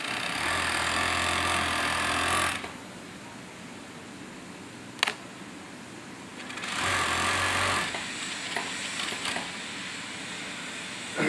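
A flatlock sewing machine runs in two bursts of a few seconds each, a loud, close, steady mechanical whir with a low hum, separated by quieter pauses and small clicks.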